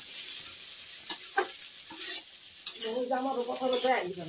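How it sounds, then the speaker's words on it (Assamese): Rice frying in a pan, with a steady close sizzle broken by sharp scrapes and knocks as it is stirred, and a busier clatter of stirring toward the end. "এয়া ভাই বোৱাৰী ভাত ভাজি আছে"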